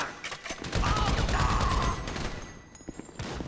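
Rapid bursts of gunfire crackle through a shootout during a heist in a crime action game, dense volleys near and loud with shouting voices mixed in, easing briefly before more shots.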